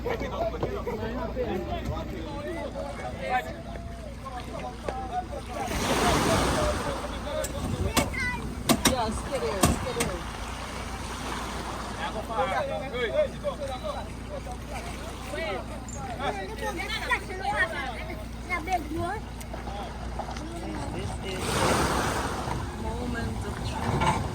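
A double-hull powerboat is launched into the ocean at Bequia amid a crowd murmuring and talking, with water washing and two stronger splashing surges rising over the steady background.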